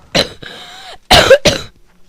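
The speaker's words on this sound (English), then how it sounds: "Sorry, I still have the cough." A man coughs sharply twice at close range, with a throat-clearing rasp between the bursts, loud and alone.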